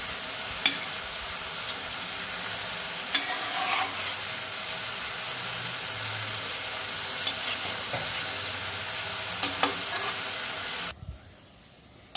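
Continuous sizzle of semolina sweets frying in oil and ghee, with occasional spoon taps and scraping, ending abruptly in near silence.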